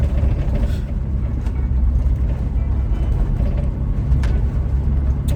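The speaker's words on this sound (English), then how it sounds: "So now I'm just driving around in circles." A car driving along, giving a steady, close low engine and road rumble inside the cabin with no talking.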